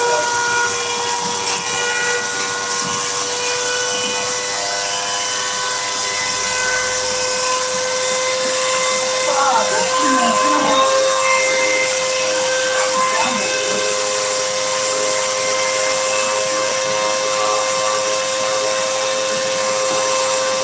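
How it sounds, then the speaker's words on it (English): A vacuum cleaner strains to suck up large kernels, giving a steady, loud hiss and whine with a sharp high whistle that holds throughout, plus brief rattling bursts near the middle. "because the kernels are too big to be vacuumed the normal way"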